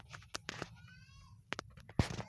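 Small high-pitched meows from kittens, a few brief cries scattered among soft rustling and clicks, fairly close but quiet.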